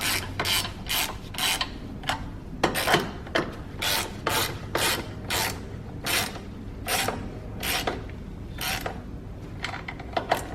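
Ratchet tightening the battery hold-down bolts on a Mitsubishi Mirage G4, a run of quick, close rasping clicks in short bursts with brief pauses between strokes.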